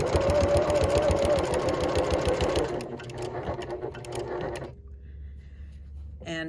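A sewing machine stitches along the original seam line of a jeans pocket while the jeans are turned into a tote bag. The stitching starts as a fast, loud, steady chatter, then slows and stops, leaving a quiet hum.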